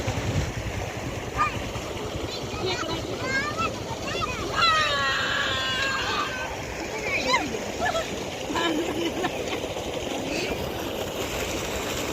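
Clothes are washed by hand in open water in a village, with repeated splashing and sloshing while several voices talk over it.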